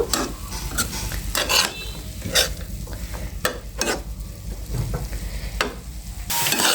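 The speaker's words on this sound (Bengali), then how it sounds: "একটু লবণ আর একটু হলুদ দিয়ে একটু নেড়েচেড়ে মিশিয়ে দিচ্ছি বন্ধুরা" Winter vegetables such as cabbage and cauliflower stirred in a pan with salt and turmeric, sharp scraping spoon strokes at irregular intervals over a low sizzle, close and fairly loud, no speech.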